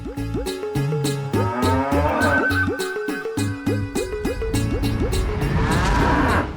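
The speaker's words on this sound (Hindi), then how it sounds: "वो काली वाली भैंस है ना, उससे जाके ले लो।" A black buffalo moos in repeated, drawn-out calls that are close and fairly loud, layered over a steady rhythmic pulse that runs throughout.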